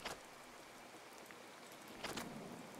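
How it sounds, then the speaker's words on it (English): Heavy rain falls in the survival video game Card Survival as a steady, dense hiss of pouring water with a couple of brief louder surges of drops, continuous and alone without talk. "It's heavy rain though."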